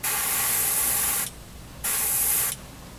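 A 0.3 mm double-action airbrush sprays unthinned Revell chrome paint at 20 psi onto kit parts, giving two close, loud bursts of hissing spray, each lasting a little over a second, with quiet gaps between.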